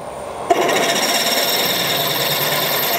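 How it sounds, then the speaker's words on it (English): A blunt drill bit rubs on stainless steel without cutting, giving a steady, harsh grinding whine that starts abruptly and holds evenly for a few seconds, close and alone. "If you persevere with blunt drills on stainless steel, you make it go hard, it gets hot and goes hard"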